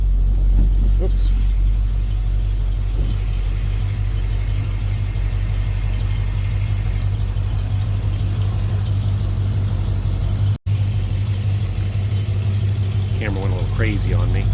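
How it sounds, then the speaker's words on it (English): A 1965 Ford Mustang with a freshly restored V8 and automatic transmission idles through dual exhaust, giving a steady low rumble that runs the whole time, with a brief dropout near the end and faint talk. "we'll listen to this dual exhaust"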